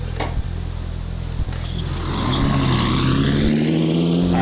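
A car pulls away on a test drive after a clutch adjustment with added washers. A low idle rhythm gives way to engine revs rising through the gears, heard from inside the car at close range with no talking.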